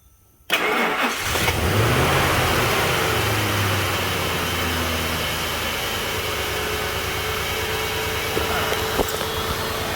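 A car engine cranks and catches, revs briefly, then settles into a steady idle that runs on without pause.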